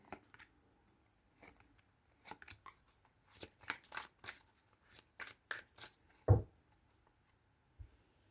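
Tarot cards are shuffled for a love reading in quick irregular bursts of riffling and snapping, close and quiet, with brief pauses between handfuls.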